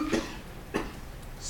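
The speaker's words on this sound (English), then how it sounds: "This cough has been awful." Two dry coughs from a man with a bad cough in a classroom setting, the first slightly fuller, the second sharp and brief, fairly close and alone without talk.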